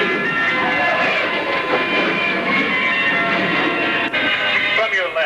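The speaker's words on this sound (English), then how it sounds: "approaching from your right, Thunderbird 5 with 4 maximum performance aileron rolls" A USAF Thunderbird 5 jet flies maximum performance aileron rolls at the 1986 Texas Air Expo in Waco, giving a loud, sustained roar that stays near and steady.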